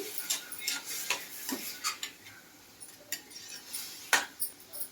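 A spoon faintly clinks and scrapes against a pan while coriander powder is stirred into a tomato curry, with a quiet, irregular series of light taps and no talking.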